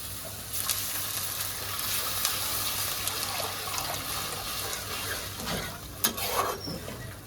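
Water poured into a hot frying pan with chili powder in it, making a loud hissing sizzle that bubbles on, with stirring scrapes and a sharper burst near the end.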